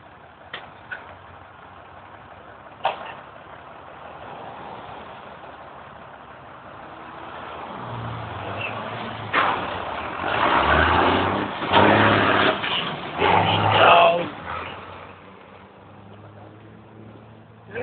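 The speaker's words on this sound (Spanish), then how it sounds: "Se ve que es un camión de la basura." A garbage truck engine, the truck fitted with spinner wheels, drones along steadily and then swells louder and rougher through the middle stretch as it drives past, before easing back down.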